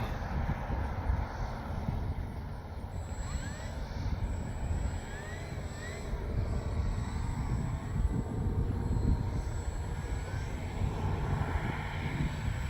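A Dynam Messerschmitt Bf 109 RC model airplane flies overhead, its steady electric motor drone holding at moderate distance with some wind rumble, no talking heard.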